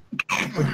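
One short, sharp sneeze bursts out close by, following a quick intake of breath.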